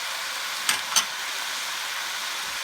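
Shanghai chicken sizzles steadily in a pan just after soy sauce goes in, a constant hiss broken by two brief scraping clatters of stirring.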